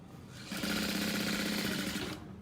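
A sewing machine stitches a structured tote bag with many pockets at a quarter-inch seam, a close, steady mechanical whir that starts abruptly, runs for over a second and stops, with no talk.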